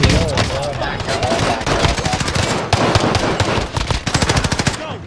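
Rapid automatic fire from a C58 rifle rattles loudly in a Call of Duty match, long bursts of close gunshots in fast rhythm with brief pauses, while players call out over the shooting.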